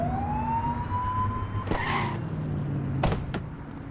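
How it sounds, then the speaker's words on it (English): Siren on a police car in The Precinct video game, a descending wail that fades out, followed by a short broadband burst and two sharp clunks like a door, with no talk. "Get behind him and flip the siren and make him pull over."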